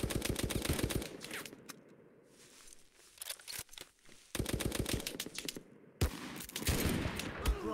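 Rapid bursts of automatic gunfire in the video game Mud and Blood, loud and sharp, starting and stopping in several volleys with short quieter gaps between them.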